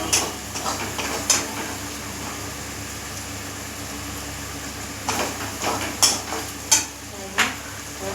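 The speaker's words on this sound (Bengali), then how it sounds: "আরো একটু মোটামুটি এটা 2 মিনিটের মতন কষাবো" Aloo dum masala being sautéed in a pan, a steady low sizzle broken by a few sharp scrapes and clinks of a spoon against the pan, close up and with no talking.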